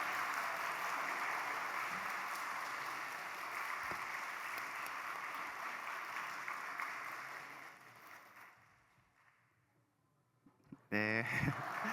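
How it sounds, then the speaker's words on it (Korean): Church congregation applauding a child at a family dawn prayer service: broad, sustained clapping for about eight seconds that fades out, followed by a brief loud burst of other sound at the end. "박수로 축복하겠습니다"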